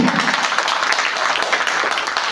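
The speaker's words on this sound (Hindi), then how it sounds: "हम चाहेंगे सर के सम्मान में जोरदार ताली हो।" An audience at a company seminar breaks into steady applause, a dense continuous wash of many hands clapping at moderate loudness throughout, with no talk over it.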